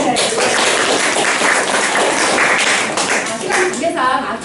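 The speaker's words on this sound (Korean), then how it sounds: "박수 한 차례." A round of applause from an audience at a senior volunteer club training session, loud crisp clapping close by with voices mixed in, tapering toward the end.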